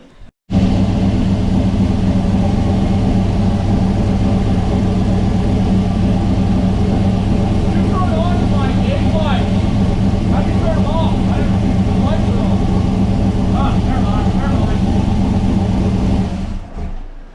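A 1972 Monte Carlo's engine runs at a steady idle, loud and close, with a constant low rumble that continues unbroken for around sixteen seconds before cutting off, while people talk in the background.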